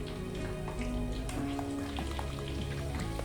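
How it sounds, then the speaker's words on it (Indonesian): Caramel banana chips fry in a batch of hot oil, giving a steady, close crackling sizzle that runs unbroken throughout, with faint tonal sounds in the background. "Untuk menggoreng keripik pisang karamel ini membutuhkan waktu kurang lebih 15-20 menit."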